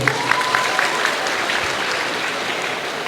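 An audience at a religious lecture for students claps together, producing a steady, fairly loud wash of hand claps that holds evenly for a few seconds with faint crowd murmur.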